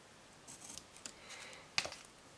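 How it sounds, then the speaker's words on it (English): Close, quiet snips of scissors cutting paper, a few soft crisp cuts with one sharper snip near the end. "And then I'm just going to take my scissors"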